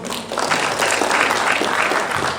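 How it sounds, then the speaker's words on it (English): Applause from an audience in a hall, with only about a quarter of the room clapping: a steady, dense patter of hands that holds at an even level for the whole stretch. "thank you, even though it's just 1/4 of the hall that clap for us"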